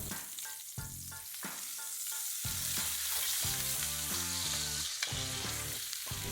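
A sous vide duck breast sears in a hot pan, producing a steady, bright sizzle with occasional crackles as it is pressed and moved, heard close up under background music.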